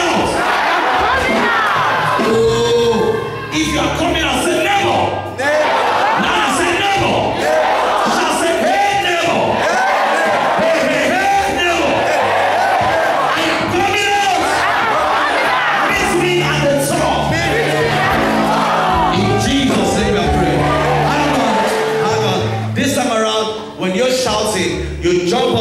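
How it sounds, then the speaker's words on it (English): A church congregation shouts and cries out together in one dense, loud, sustained roar of many voices that runs the whole way through, with whoops and bellows rising out of the crowd. "Let somebody shout, I am coming."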